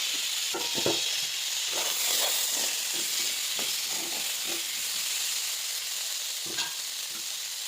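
Tomatoes frying in a pan for egg bhurji, a steady close sizzle and hiss with occasional stirring knocks and scrapes, no talk.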